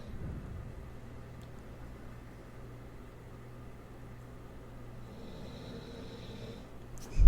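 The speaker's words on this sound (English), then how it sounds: "That's my dog snoring." A dog's slow, low snoring drones steadily close by in a quiet room, ending with a sudden loud rustle.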